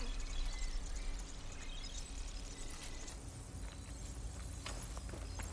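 Horse hooves in the video game Horizon Forbidden West, a soft, irregular clopping over a dense, steady bed of game ambience, faint and close.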